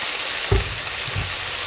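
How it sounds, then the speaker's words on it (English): Chopped Chinese cabbage stir-fried with dry shrimp in a hot pan, a steady close sizzle with a brief clatter of stirring partway through. "add in chopped Chinese cabbages"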